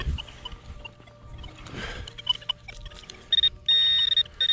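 Electronic beeping from a metal detector sweeping ground while searching for buried metal and artifacts; thin high tones come in short bursts then a sustained steady tone near the end, over faint handling noise.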